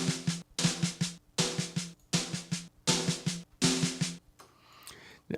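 Heavily compressed snare drum hits in quick repeating bursts, punchy and dense with a squashed, sustained body, loud and alone, ending in a brief quieter tail.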